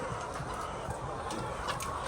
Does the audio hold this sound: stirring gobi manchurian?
no